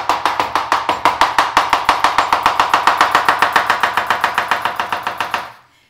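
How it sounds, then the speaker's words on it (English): A knife chops green onions on a cutting board in quick, even strokes, about thirty loud, close taps in a steady rhythm before stopping abruptly. "quickly chop them up"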